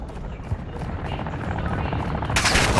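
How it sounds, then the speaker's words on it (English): An enemy attack helicopter in Warzone, Al Mazrah, approaches as a steady low rotor drone under continuous gunfire-like crackle, swelling louder toward the end with a bright burst. "Ultra One, the enemy attack helo is moving in your direction."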